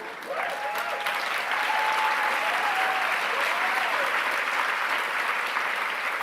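Sustained applause from a large audience, steady and dense throughout, with a faint whistle or voice rising briefly over the clapping.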